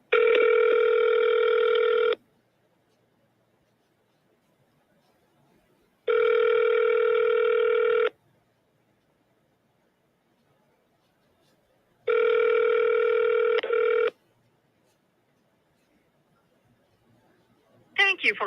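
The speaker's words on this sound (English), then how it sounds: "Your call is being transferred." A telephone ringback tone on a business line sounds in three steady, evenly spaced rings of about two seconds each, separated by silence, clear and alone.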